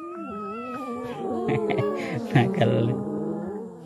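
Several pet cats meow and yowl insistently up close, overlapping drawn-out cries rising and falling, with a person's brief word in between.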